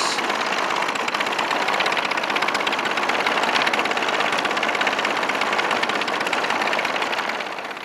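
A small 3V gas engine on an Extra 330S RC model airplane runs at a steady, loud buzzing pitch for several seconds at an airfield, close and continuous with no talking.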